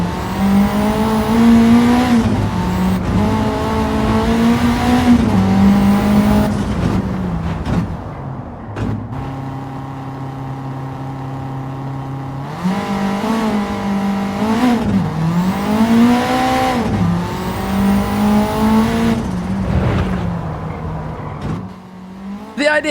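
A video game racing car's engine roars close up on a circuit, revving and rising in pitch through repeated gear shifts, easing off briefly midway before accelerating hard again.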